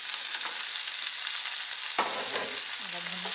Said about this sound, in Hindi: सारी सब्जियां भून गई है।